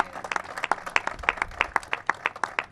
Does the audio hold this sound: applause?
yes